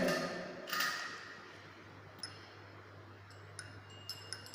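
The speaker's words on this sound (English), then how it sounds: "Again I keep the glass rod dipped." A glass rod taps and clinks against a glass holding a test solution during an acid-base check, giving a few faint, sparse high pings after a brief louder rustle, with a low steady hum underneath.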